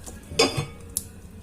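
Lid set onto a cooking pot of Moroccan-style fava beans, one quick metallic clatter followed by a lighter clink, close and fairly quiet with a faint simmer beneath.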